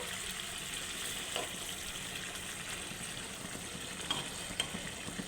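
Eggs stirred into boiling water in a cooking pot, a soft continuous bubbling and sizzling wash with a few faint scraping clinks, quiet and without talk.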